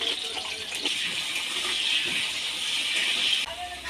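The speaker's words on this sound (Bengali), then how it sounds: "অল্প পরিমাণে নুন দিয়ে ভালো করে লাল লাল করে আলুগুলোকে ভেজে নেবো" Potatoes fry in oil with a little salt, giving a steady bright hiss and sizzle up close that runs continuously before dropping slightly near the end.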